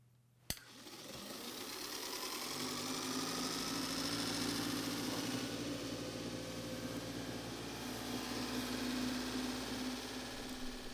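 A large DC electric tractor motor spins up on 12 volts after a click, settling into a steady, quiet whirring hum with faint tonal whine that holds evenly.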